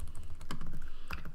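Keys on a computer keyboard are typed close by in a quick, irregular run of clicks and taps, with a couple of louder strokes standing out.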